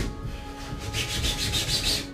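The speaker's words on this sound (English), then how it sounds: "so just use a flat bit of sandpaper" Flat sandpaper rubbing over the seams of a prop sword guard for a Buster Sword cosplay build, a close, steady back-and-forth scratching that quickens into repeated strokes with no talking.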